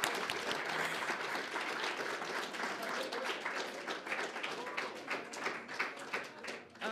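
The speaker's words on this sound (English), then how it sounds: "let's just give another round of applause for everybody that's been behind this podium this evening" Sustained audience applause fills a ceremony hall at a university MLK Courage to Create event, dense steady clapping from many hands lasting throughout, fairly even in loudness with slight swells near the end.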